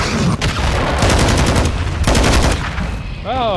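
Loud, close bursts of automatic gunfire in the Call of Duty video game, several rapid volleys one after another, ending with a brief sweeping electronic tone.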